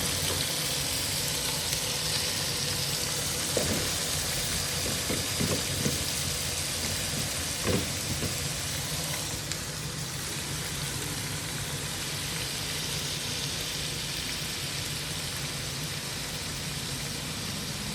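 Prawns being lightly fried in oil in a pan for prawn biryani, a steady close sizzle with a few soft stirring knocks along the way.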